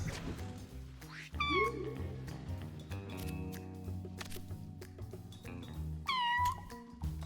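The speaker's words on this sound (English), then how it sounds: "That's my cat." A house cat meows twice, a close, rising-then-falling cry near the start and another toward the end, over quiet background game music and faint shuffling sounds.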